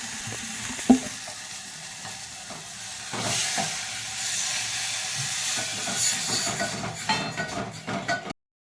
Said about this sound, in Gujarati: બાબુભાઈનું મસ્ત મજાનું શાક વઘારાઈ ગયું છે